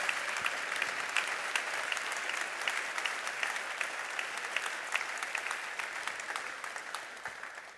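Audience applause at the Sono Motors Sion solar electric car unveiling, a steady, dense wash of clapping from a large crowd that holds evenly throughout and tapers only slightly at the end.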